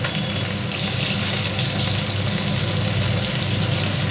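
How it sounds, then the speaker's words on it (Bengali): Dry red chillies crackle in hot oil as a tempering for a Bengali village-style sour fish-head dish, a loud, constant, close-up sizzle filling the whole moment without speech. "শুকনো লঙ্কা ফোড়ন দিলাম"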